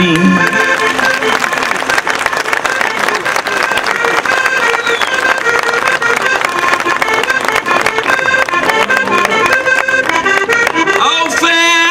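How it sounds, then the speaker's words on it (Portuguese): Strong, sustained applause from a crowd at a live Portuguese desafio singing event, loud and continuous throughout, with music or voices layered underneath. "Peço umas salvas de palmas forte."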